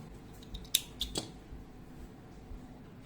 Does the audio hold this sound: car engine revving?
no